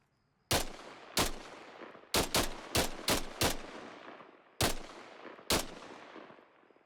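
An FN SCAR rifle fired unsuppressed in Arma Reforger, nine sharp, loud single shots at uneven spacing, each followed by a long echoing tail that dies away before the next.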